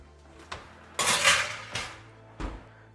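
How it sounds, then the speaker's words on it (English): Pots and pans clatter and clink in a home kitchen as a tray of food drizzled with olive oil goes back into the oven, with a few sharp knocks and one longer rattling burst, close and fairly loud. "And they're going back into the oven."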